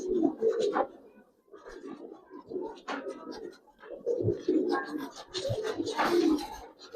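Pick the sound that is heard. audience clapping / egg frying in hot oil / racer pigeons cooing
racer pigeons cooing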